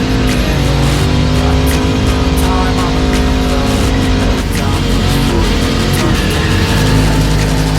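A turbo V8 Mini Cooper roars through a burnout, its engine loud and sustained with rapid revving bursts and popping crackle throughout, close and continuous.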